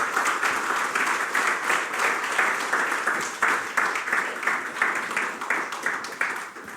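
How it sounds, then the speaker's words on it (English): An audience applauds at the close of a memorial lecture on sport in India, steady moderately loud clapping that swells slightly and holds throughout. "Round of applause"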